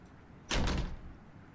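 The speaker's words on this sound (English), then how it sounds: "the door behind us slams shut" A door slams shut in the horror game The Letter: a single loud, sharp bang over a quiet hum, trailing off into a short, fading rumble.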